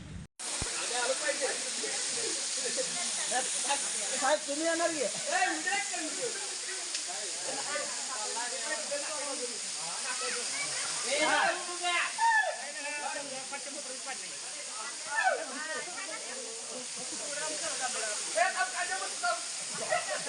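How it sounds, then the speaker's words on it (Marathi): A constant rushing hiss of a waterfall flowing down into a valley between two hills fills the background while a voice talks over it almost throughout. "दरीमध्ये जे पाणी वाहून जातं धबधब्याचं"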